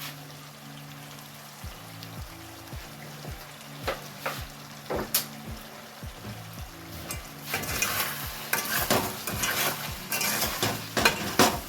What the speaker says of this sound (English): So we're going to fry this for a good 10 minutes